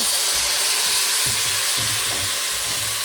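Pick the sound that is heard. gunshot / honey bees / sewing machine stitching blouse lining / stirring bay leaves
stirring bay leaves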